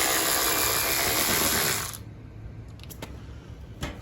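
A socket ratchet working on the side plastics of a Suzuki DRZ400, giving a dense buzzing rattle for about two seconds, then a few sparse close clicks and taps.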